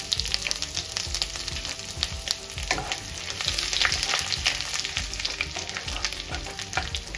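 Chopped ginger frying in a pan with cumin and bay leaves for egg curry, a steady close sizzle with brief stirring scrapes throughout.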